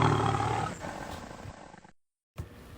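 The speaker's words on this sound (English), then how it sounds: "the roar was so loud that his mother, the lioness, heard it miles away" A lion roars loudly and close, a deep, rough sound that fades out, then breaks off into silence before a short burst of sound returns.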